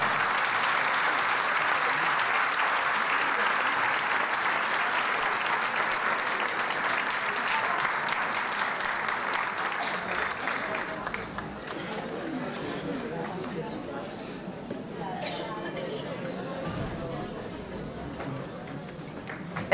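Audience applause at a Turkish art music choir concert in Bahçelievler, steady dense clapping for about eleven seconds that then thins into scattered claps and crowd murmur.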